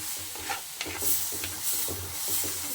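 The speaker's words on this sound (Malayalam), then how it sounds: "പേസ്റ്റാക്കിയ തക്കാളി നല്ലപോലെ മിക്സ് ചെയ്യും." Tomato paste stirred in a pan with a soft, steady scraping and low sizzle, strokes repeating in an even rhythm, close and moderately quiet with no talking.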